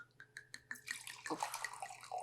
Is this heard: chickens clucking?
no